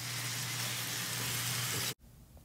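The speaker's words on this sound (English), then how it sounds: "frying them all in a pan till they go nice and soft" Onions, mushrooms and garlic frying in olive oil in a pan give off a loud, steady, broadband sizzle that holds without a break and then cuts off abruptly near the end.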